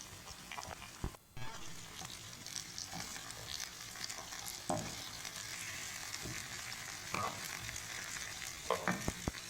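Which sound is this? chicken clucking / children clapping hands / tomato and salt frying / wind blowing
tomato and salt frying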